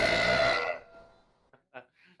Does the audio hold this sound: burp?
yes